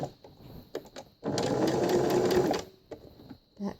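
A sewing machine stitches a quarter-inch fabric seam with a brief back stitch, running in one fast, even burst of about a second and a half between quieter handling clicks and taps.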